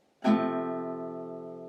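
A single F barre chord strummed once on guitar, ringing out clearly and slowly fading, with no voices.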